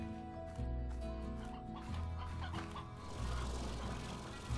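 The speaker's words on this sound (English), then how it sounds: "There's a lot of chickens here," Chickens cluck softly in Slime Rancher, with several short, scattered clucks over steady background game music.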